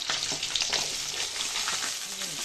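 Garlic fries in a pan alongside softening onions, producing a steady, close sizzle broken by the scrape of stirring throughout.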